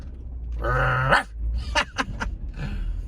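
Inside a car on a driving tour of South Philadelphia, a voice imitates a dog with a drawn-out howling bark, then short barks and a growl, over steady road noise.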